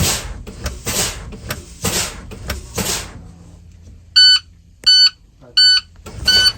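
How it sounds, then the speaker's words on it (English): Clattering and thumping give way to three loud electronic beeps from a school bus low air pressure warning buzzer, evenly spaced and harsh, with a fourth starting at the end. "my low air light and buzzer should come on, indicating low pressure"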